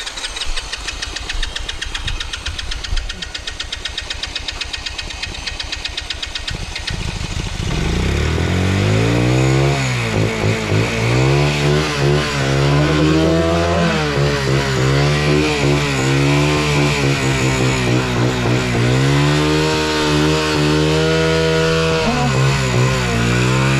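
A Rusi motorcycle engine runs close by, first as a thin, rough sputter, then after about seven seconds it opens into a loud, steady roar that rises and falls as it revs.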